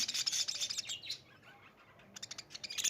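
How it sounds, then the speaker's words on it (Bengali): Small birds chirp and tweet in quick bright bursts, busy at first, thinning to a lull, then picking up again with sharp repeated calls, no voices present. "কত মিষ্টি মিষ্টি পাখিগুলো তোমাদের জন্য আমি ভিডিও করলাম"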